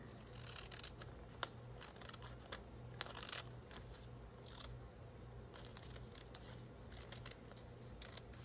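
Scissors trim paper in a quiet indoor craft setting, giving a series of soft, irregular snips and rustles spread across the stretch over a low background hum, without any talking.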